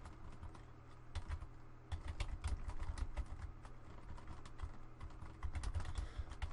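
Computer keyboard typing goes on in quick, uneven bursts of light clicks and key taps, fairly close, over a low steady hum with no speech.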